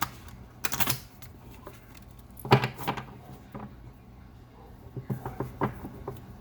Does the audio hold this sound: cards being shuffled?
yes